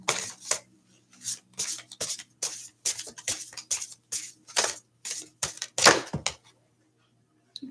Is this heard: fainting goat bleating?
no